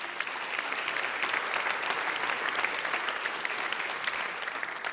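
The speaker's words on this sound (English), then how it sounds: "Would you give yourselves a great round of applause?" A congregation audience applauds steadily and fairly loudly for the full stretch, a dense, even wash of clapping with no voices rising above it.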